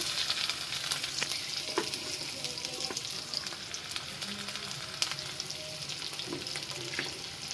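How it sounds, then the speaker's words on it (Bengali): Chopped onions fry in soybean oil in a wok with a soft, steady sizzle and crackle, heard alone, with a few faint stirring taps and scrapes. "একটি কড়াইতে আমি 1/2 কাপ সয়াবিন তেল দিয়েছি। তার মধ্যে দিয়ে দিচ্ছি 5-6টা পেঁয়াজ কুচি,"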